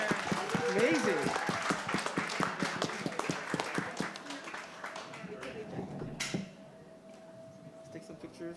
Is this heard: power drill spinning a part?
no